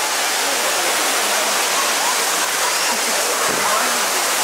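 Indoor waterfall in the Cloud Forest Dome in Singapore, heard close up as a loud, steady, broadband roar of falling water that fills the whole clip with no pauses.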